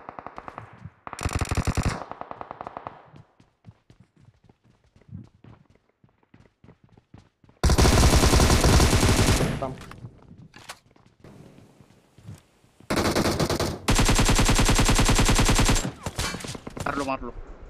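Bursts of M762 automatic rifle fire in a shooter video game, loud sustained volleys separated by quieter stretches of running footsteps and small clicks.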